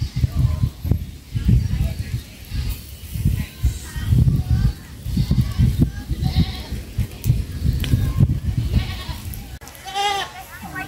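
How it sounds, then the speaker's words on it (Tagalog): Goats grazing in a pasture on a hot day bleat repeatedly, some calls near and loud, others farther off, over a steady outdoor background with a person speaking at times. "May mga kambing pong nakapastol dito."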